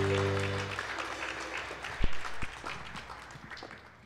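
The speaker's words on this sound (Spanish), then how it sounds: "Let's have a hand for our precious musicians" Congregation at a bilingual church service applauds its musicians: a steady wash of clapping that fills the space, lingering tones of the music fading early on, then the clapping thins and tails off.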